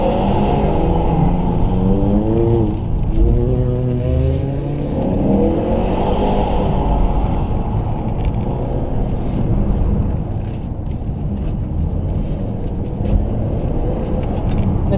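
An autocross car's engine holds high revs near the limiter in rising and falling surges, loud and close throughout, with a voice briefly heard over it.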